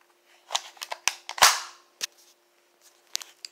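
A toy gun fires rubber bullets: several sharp close snaps and clicks scattered over a few seconds, one louder crack standing out amid quieter mechanical handling noises.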